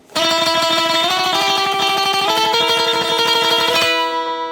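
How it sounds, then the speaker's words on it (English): Rapid, even tremolo picking on an acoustic guitar, each note shimmering through quick repeated strokes as the pitch steps up a few times before ringing out. "kind of a medium tremolo pick speed or go faster if you want"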